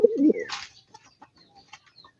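A white light breeder pigeon gives a short soft coo up close, followed by faint scattered rustles and light peeps in an otherwise quiet space.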